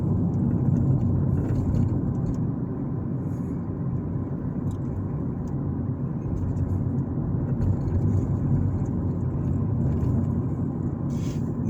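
A car cruises steadily through a residential area of Greenville, Alabama, its engine and road noise a constant low interior rumble with no breaks, heard from inside the cabin.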